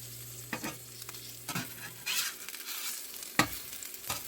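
Eggs sizzle and crackle in a hot Smithey Farmhouse cast iron skillet while a utensil scrapes and stirs in short, repeated strokes; close and moderately quiet, with no talking.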